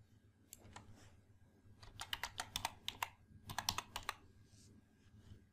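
Keys clack on a computer keyboard in quick bursts of typing, close and fairly quiet, with short pauses between runs of strokes and no talking.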